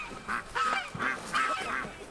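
An angry goose on a homestead honks in a string of about five loud, harsh, nasal calls, evenly spaced and close to the microphone, with no talking.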